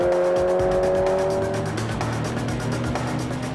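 A rally car at Targa Tasmania 1997 screams along at high revs, a loud, sustained engine howl with rising and falling pitch and no talk over it.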